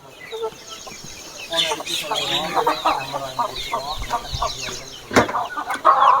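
Aseel chickens and roosters clucking and squawking nearby, several birds overlapping in busy chatter with a sharp cackle near the end.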